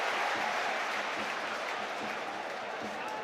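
Dense, steady roar of a home football crowd at a Hearts v Rosenborg Conference League match, a continuous wash of cheering and applause-like noise filling the whole moment without a clear break.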